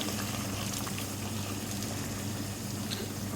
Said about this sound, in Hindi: गर्म पानी इसमें शामिल कर रहा हूँ मैं।